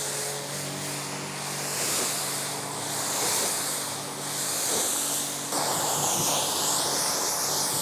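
Water spray rinsing the ceramic-coated side of a car, a loud continuous close hiss that swells and eases slightly and shifts to a brighter splash partway through.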